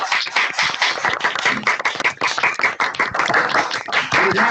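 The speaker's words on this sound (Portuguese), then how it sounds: "Eu vou pedir de novo para o pessoal abrir o microfone para a gente bater palmas" Several online participants clap over open microphones during a web colloquium, producing loud, uneven, slightly distorted rapid claps that overlap throughout.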